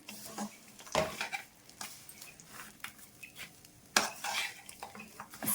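A spoon scrapes and clinks against a pan while dry fruits are fried and stirred over a medium flame, with sharp irregular metallic taps over a faint background sizzle.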